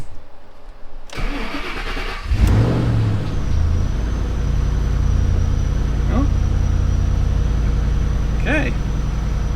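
A Ford Shelby GT500 repo project car cranks over and fires up with a loud starter burst, then settles into a steady, close rumbling idle with a brief rev, while people talk nearby.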